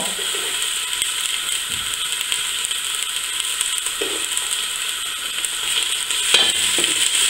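Onions fry in palm oil for a Cameroonian pumpkin-seed sauce, giving a continuous bright sizzle and hiss. Occasional spoon scrapes and clicks of stirring rise slightly near the end, with no voices.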